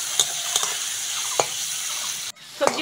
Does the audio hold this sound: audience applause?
no